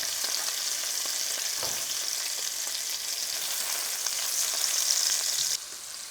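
Meatballs sizzle steadily in a hot pan, a dense continuous crackle and hiss with faint scrapes, loud and close, no voices.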